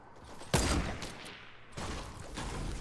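Gunfire in the video game Fortnite: a sharp loud burst of shots, then a denser, sustained rattle of rapid fire continuing to the end.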